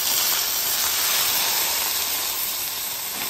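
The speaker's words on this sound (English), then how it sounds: "So we're just going to sear this back and forth." Chuck roast searing on a hot griddle, a loud, steady, close sizzling hiss that fills the whole short moment without pause.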